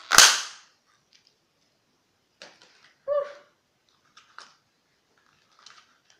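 A Christmas cracker bonbon gives a single sharp snap, followed by quieter rustling and crinkling of paper close by.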